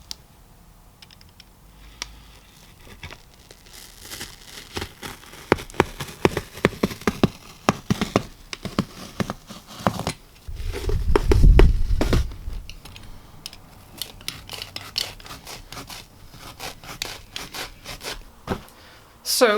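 Upholstery foam being cut around the edge of a chair seat: a run of close scratchy tearing and sawing strokes, louder in the middle with a deeper rumble, then sporadic taps.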